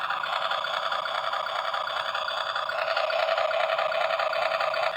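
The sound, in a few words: engine sound of a mini toy RC truck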